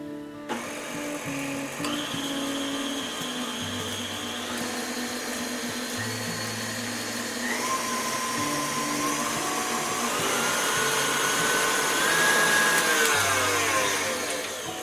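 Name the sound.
mixing flour into lemon cookie dough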